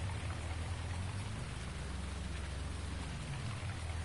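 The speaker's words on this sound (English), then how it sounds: "it's raining" Steady, dense rain falls in a farming game, an even wash of droplets on surfaces that holds at the same level from start to end with no voices.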